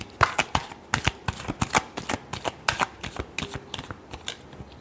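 Tarot cards being shuffled by hand, a quick run of crisp riffling flicks and taps repeating steadily, close and fairly quiet.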